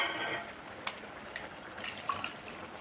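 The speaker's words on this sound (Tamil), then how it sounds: "கொஞ்சம் மிக்சி ஜாரை கழுவி தண்ணி சே சேர்த்துருவோம்" Water running from a tap as a mixer grinder jar is rinsed in a home kitchen, a soft steady splashing flow with a few sharp drips and clinks, close and fairly quiet.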